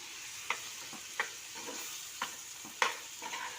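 A spoon scrapes and knocks against a pan at a steady pace, about five distinct strokes, as a drumstick vegetable curry simmers with a low sizzle beneath.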